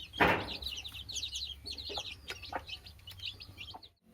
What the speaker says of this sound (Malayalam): അമ്മയും കുഞ്ഞുങ്ങളും തീറ്റ എടുത്തുകൊണ്ടിരിക്കുകയാണ്